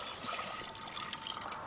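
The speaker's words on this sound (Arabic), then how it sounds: "بدنا نزيد المي." Water poured into a pan to make a bain-marie while preparing angel cake with berry compote, a steady close trickle and splash filling the container throughout.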